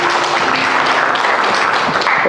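A church congregation at a Sunday service applauding, a dense, loud clapping wash that fills the whole stretch without a break.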